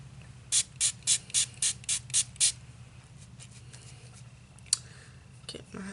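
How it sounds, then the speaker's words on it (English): A spray water bottle mists a makeup sponge with eight quick, evenly spaced pumps, each a crisp, close hiss, followed by softer handling noises and quiet background hum. "spray water bottle."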